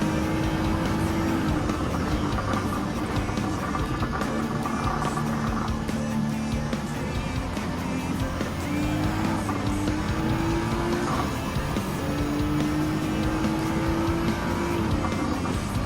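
Toyota GR Yaris engine in Gran Turismo 7, revving steadily at high load during a race, with rising and falling pitch as gears change, loud and continuous with faint tire noise.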